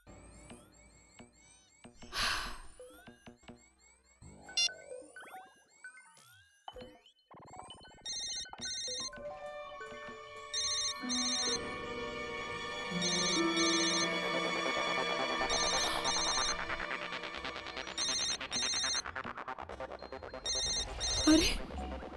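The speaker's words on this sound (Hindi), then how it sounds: "फोन तो यहीं कहीं बज रहा है।" A mobile phone rings somewhere nearby inside a closed flat, its repeating electronic ringtone pattern cycling steadily for many seconds after some scattered clatter and tones at the start.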